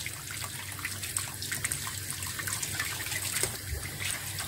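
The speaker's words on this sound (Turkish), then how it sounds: "ayarladığımız patatesleri güzelce yıkıyoruz" Potatoes being washed under a running kitchen tap, with a steady, continuous hiss and splash of water close by and faint handling noises within the flow.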